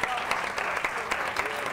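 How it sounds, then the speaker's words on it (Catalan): Applause from a studio audience for a contestant on a Catalan televised spelling quiz, a steady wash of clapping hands heard close, with a voice speaking faintly over part of it. "aplaudiment pel Mateu"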